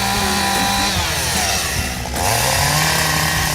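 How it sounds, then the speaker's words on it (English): A chainsaw carves wood at an exhibit during a three-day truck show, cutting loud and close without pause, its engine pitch dipping briefly mid-cut and then rising again as the blade bites back in. "Scott Winford is a chainsaw artist who I spoke with during the show."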